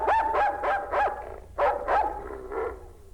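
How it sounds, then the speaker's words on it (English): A large police watchdog barks loudly and repeatedly, about seven sharp barks in two quick bursts, close and clear with no talking. "He's a watchdog, so he barks very loud."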